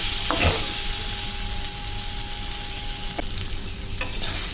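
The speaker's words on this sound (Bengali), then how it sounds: "এখন আমি ডিমের তরকারি করছি" Egg curry frying and sizzling in a pan while being stirred, a steady hiss with occasional scrapes and clinks of the spoon against the pan and a faint tonal hum behind.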